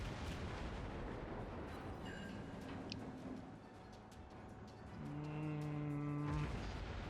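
The battleship Fuso fires its heavy naval guns in World of Warships, heard as deep, booming salvos over a low, steady rumble of sea and engine noise. One long resonant blast swells near the end.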